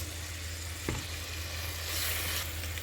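Grated onion and garlic frying in a pan for ezogelin soup, a steady close sizzle with one brief clink of a utensil partway through.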